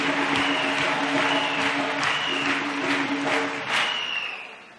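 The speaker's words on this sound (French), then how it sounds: "Acclamons pour Jésus-Christ." An audience claps together at a religious testimony gathering, with dense, sustained applause and a few sharper claps that taper off toward the end.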